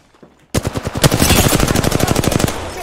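Automatic gunfire erupts in the Breach and Clear video game after a brief quiet lead-in, a loud, close stream of rapid shots that keeps a steady rhythm to the end.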